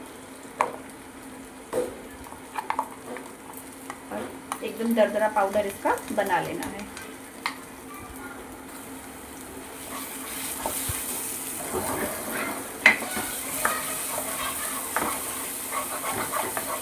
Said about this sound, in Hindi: ऑयल गरम हो गया है। अब हम इसमें अपनी दाल डालेंगे और फिर इसे मध्यम आंच पे, एकदम से आंच पे भूनेंगे।